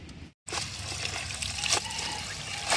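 Water runs and splashes steadily as leafy mountain greens are washed, a close, continuous trickling and pouring that holds after a brief gap near the start.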